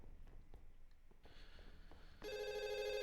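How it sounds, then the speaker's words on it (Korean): A telephone bell in the video game Fatal Midnight starts ringing abruptly after quiet ambient sounds, loud and continuous with a bright electronic tone. "어 전화 왔네."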